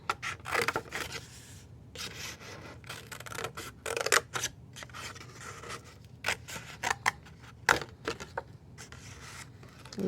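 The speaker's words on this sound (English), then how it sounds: "Just get your scissors in there" Scissors snip through paper for a Van Gogh cypress craft, giving close, irregular cuts and rustles with short pauses between them.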